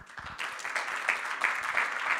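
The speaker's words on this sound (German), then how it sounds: "ein Applaus, ein freundlicher Applaus von Ihnen" Audience applause greets a speaker at a German hunting association conference on forests and wildlife, a steady, moderately faint clapping that holds evenly for a couple of seconds.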